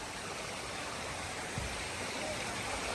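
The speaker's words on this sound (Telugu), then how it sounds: "వాటర్ ఫాల్ అయితే దగ్గరికి వచ్చేసింది గాయ్స్" Bugga waterfall roars as a steady, soft broadband rush, heard at a moderate distance with no distinct splashes.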